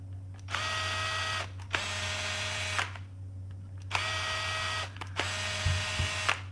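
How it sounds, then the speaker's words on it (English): A small power tool whirring in four bursts of about a second each, with short pauses between them, as screw holes are tapped in a plastic PS4 controller remap board for paddles; close and steady, with a low hum underneath. "take your tap, tap the holes for the screws"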